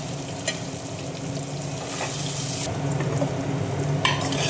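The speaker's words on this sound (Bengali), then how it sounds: "আলুটাও আমার ভাজা হয়ে গেছে" Potatoes with turmeric and salt frying in oil in a pan for a pomfret recipe, a steady close sizzle with occasional stirring scrapes and a few brighter crackling bursts, no one speaking.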